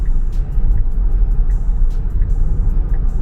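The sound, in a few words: Tesla car driving on full self-driving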